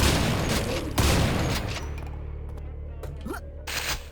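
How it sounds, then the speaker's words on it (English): Rocket launcher fire in the Quake map Brutalist Jam 3, a series of sharp booming blasts and explosions in quick succession with rumbling tails, loud and close, mixed with other game noise. "That's the rocket launcher, isn't it? The missile launcher?"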